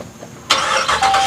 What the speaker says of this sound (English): All right, here, let's move my truck.